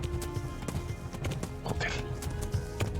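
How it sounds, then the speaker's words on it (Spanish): Hooves clip-clop in a steady galloping rhythm with a horse whinny in a video game set in the Holy Roman Empire, close and continuous, with game voices and music mixed underneath. "Caballito."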